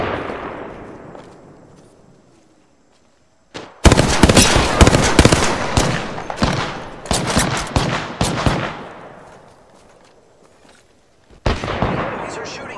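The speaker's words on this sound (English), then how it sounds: "Enemies are shooting at me." Enemy gunfire in Apex Legends: a distant decaying blast fades to quiet, then loud rapid bursts of automatic shots crackle close by, pause briefly and start again.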